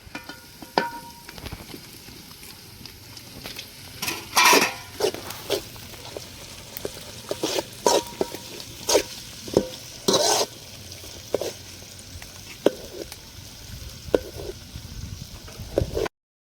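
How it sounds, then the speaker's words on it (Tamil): Tomatoes sauté in a pan for a Kerala black chickpea curry, giving a soft, quiet sizzle broken by irregular spatula scrapes and clinks against the pan, with no one talking. "தக்காளி போட்டு வணக்கலாம்"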